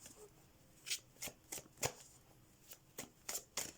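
Tarot cards are shuffled by hand up close, a quiet series of soft riffling flicks in uneven bursts against a near-silent room.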